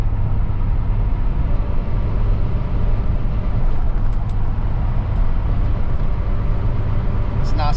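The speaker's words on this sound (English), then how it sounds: "I'm gonna drive on the highway just a little bit longer" Car cruising on a highway in fifth gear after a throttle position sensor fix, a loud steady interior rumble of engine and road noise with no break, heard from inside the cabin.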